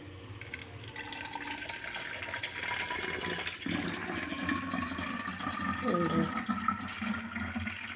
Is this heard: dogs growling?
no